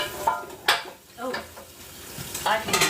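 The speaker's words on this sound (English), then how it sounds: "I'm gonna pan fry this just to make sure." Food sizzles in a frying pan at close range, with a few sharp scraping stirs and utensil clatters breaking through the steady hiss.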